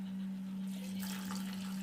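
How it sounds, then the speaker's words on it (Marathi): Hot water poured into roasted masala in a pan for paneer masala, a sudden splashing gush that starts partway through over a steady electrical hum, close by. "आता त्यात घालते मी पाणी गरम पाणी घ्यायचं"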